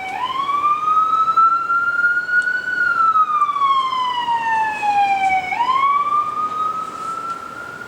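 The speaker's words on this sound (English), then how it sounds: "I'm going to let that siren pass by first" An emergency vehicle siren wails through a city, loud and close, rising and falling in a long slow sweep that restarts with a fresh upward cry.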